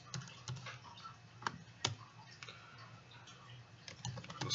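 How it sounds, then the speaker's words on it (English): Quick, irregular clatter of typing on a computer keyboard, close and fairly quiet, with scattered sharper key strikes over about four seconds and no talk. "I'm just typing random things."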